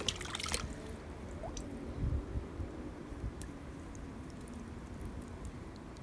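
Water poured over a pineapple top planted in a pot of vermiculite, giving a soft, steady wash with faint drips and trickles throughout.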